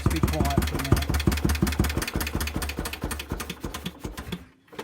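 A 77-year-old tractor engine idles close by with a loud, rapid, evenly pulsing chug that keeps a steady beat before cutting off abruptly at the end.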